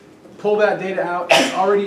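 A single sharp sneeze from someone in a classroom during a lecture, a brief loud burst cutting across the lecturer's ongoing talk.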